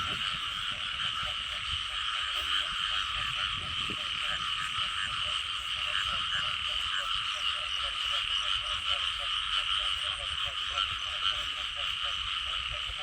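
Frogs and toads croaking loudly at night, a dense continuous chorus of rapid, pulsing calls layered together, steady and near, with faint background noise and no clear talk.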